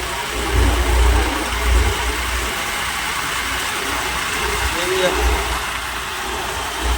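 A low, steady tractor engine rumble chugs on throughout on a farm field, with a few heavier surges, like a big diesel idling nearby.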